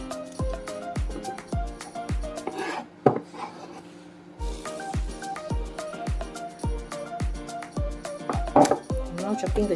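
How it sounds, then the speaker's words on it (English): Chili being chopped with a knife on a cutting board: rapid, regular close knocks in bursts, with a short pause partway through and a few louder clatters. "I'm now chopping the chili."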